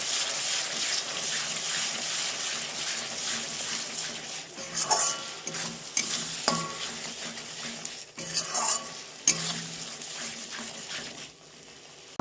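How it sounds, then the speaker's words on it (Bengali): Spice masala with chilli powder stir-fried in a pan, a steady hiss under repeated scraping and clinking strokes of a spatula against the metal, close and moderately loud, with no talking. "সব কিছুই দেওয়া হয়ে গিয়েছে মশলাটা আমি 1-2 মিনিটের জন্য ভালো করে কষিয়ে নেব।"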